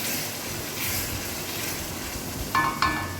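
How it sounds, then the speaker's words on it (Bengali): Garlic fries in hot oil for mutton curry, making a broad, steady sizzling hiss close by, with two quick metallic clinks near the end and no speech. "রসুনটা আমার ভেজে নেওয়া হয়ে গেছে।"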